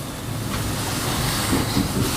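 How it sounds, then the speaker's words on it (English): Hot water poured from a kettle onto Koppi Ethiopian coffee grounds in a V60 dripper for the bloom, a soft steady rushing trickle that swells slightly toward the end, close and quiet with no talking. "going in for our first pour. Get that bloom in"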